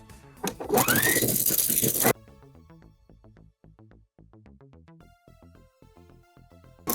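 A sewing machine stitches picot lace onto panties and is heard as a rapid, even run of mechanical clicks after a brief louder burst of noise at the start, close and fairly quiet.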